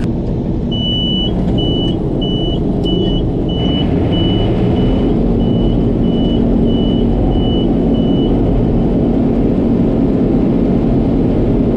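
A truck rumbles steadily on a muck farm while a high reversing alarm beeps in an even, repeating rhythm for several seconds, then stops as the engine drone carries on, fairly loud and close, with no talking.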